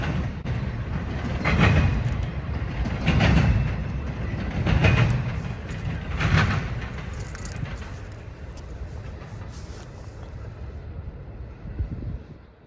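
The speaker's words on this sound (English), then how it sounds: "The symphony of an approaching train told me what I came to Cordial to witness was about to pass me by." A CSX freight train approaches and passes in Cordele, Georgia, with rolling rumble, rhythmic wheel clatter and metallic jangling swelling in waves before fading away.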